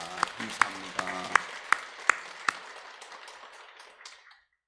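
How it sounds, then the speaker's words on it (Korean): A church congregation claps and applauds, with sharp individual claps standing out over a dense wash of clapping that thins out and fades to silence after about four seconds. "우리 하나님께 영광의 박수 올려드립니다"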